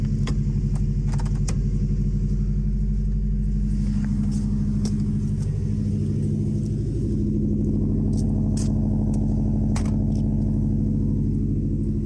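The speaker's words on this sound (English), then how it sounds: "I'm gonna get a cold start. sound like a Subaru, huh?" A 2000 Honda Civic Si (EM1) engine runs after a cold start with a loud, steady, close rumble and a slight dip partway through, while light clicks and jingles sound over it.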